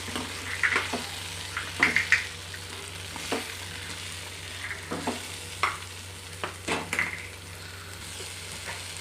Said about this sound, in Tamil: சேர்த்துட்டு கொஞ்ச நேரம் நல்லா வதக்கி விடுங்க.